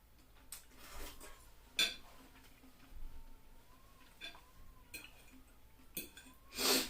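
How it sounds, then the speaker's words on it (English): Cutlery scrapes and clinks against a plate during a beef steak meal, several short faint scratches and taps spread irregularly across a quiet room, with a soft tonal whine running underneath. "Sorry about scraping the plate."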